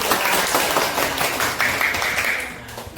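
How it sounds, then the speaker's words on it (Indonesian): A group of children clapping together during a classroom lesson in Indonesia, a brisk, dense patter of many hands that runs continuously for a few seconds before tapering off. "Nah, kasih tepuk tangan."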